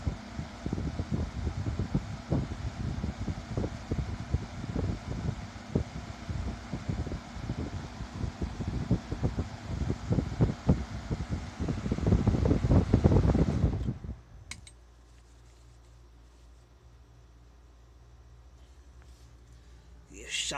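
A vintage Kisco hassock floor fan, model 7000, runs with a loud rumbling whoosh and clattering motor noise, then cuts off abruptly into a faint hum for the last few seconds.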